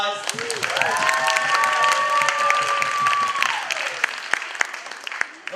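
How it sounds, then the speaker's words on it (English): An audience at a sangeet celebration applauds its performers, dense steady clapping with some cheering and a sustained tonal whoop or whistle sliding through the middle, fading after a few seconds. "I would like everyone to give all of our performers a round of applause."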